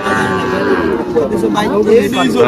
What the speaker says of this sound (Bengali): এইখানে একটা গরু দেখতে পাচ্ছি